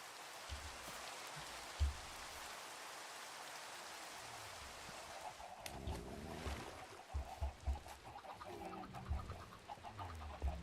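Clucking chickens on a Minecraft chicken farm, scattered short clucks over a steady hiss of rain, becoming busier toward the end with no speech.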